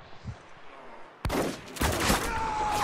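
Spec Ops The Line team deathmatch, quiet at first, then a sudden loud eruption of gunfire with sharp cracks and a dense volley continuing to the end, with a faint voice-like murmur in the mix.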